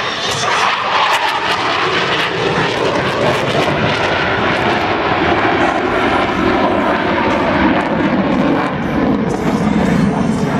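A loud, continuous jet engine roar from an F-18 Hornet fighter at an air show, sustained and droning throughout with no pauses.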